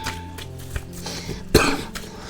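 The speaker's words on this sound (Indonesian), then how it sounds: "Sorry guys, agak batuk ya." A single sharp cough from an adult close to the microphone, loud and sudden, with a faint throat noise just before it and near-quiet room tone around it.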